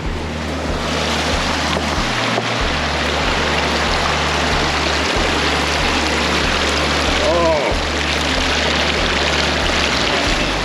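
Rushing creek water in the Victorian High Country flows loudly and steadily, with a brief splash-like stir near the end as feet go into the icy water and a short exclamation from a voice.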